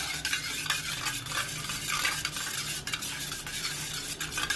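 Eggs for an omelette beaten with a spoon in a bowl, a fast, steady scraping and clicking stir that runs continuously at close range without talk.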